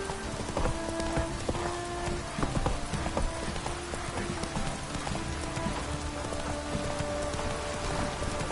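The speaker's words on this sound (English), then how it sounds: "This downpour's a bastard, it is." Steady heavy rain in The Witcher 2 hisses over everything, with horse hooves clip-clopping through it and occasional faint voices.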